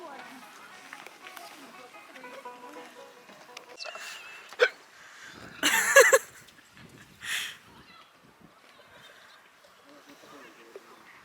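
A person hiccups on a bus headed to the Cliffs of Moher in Ireland, with a few sharp, isolated hiccups popping out amid ongoing conversation.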